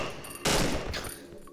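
A gun in the horror game Cry of Fear fires one loud sharp shot followed by a fainter second report, each decaying quickly into a quiet background.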